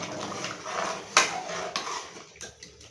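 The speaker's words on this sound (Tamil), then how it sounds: "இப்போ நல்லா மிக்ஸ் பண்ணிக்கலாம்." A spoon scrapes and clinks against a pot while stirring chicken curry, with a few sharp metallic taps over a soft bubbling background.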